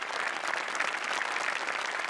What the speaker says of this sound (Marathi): सचिन मोटे आणि अभिजित पवार यांच्यासाठी टाळ्या वाजल्या पाहिजेत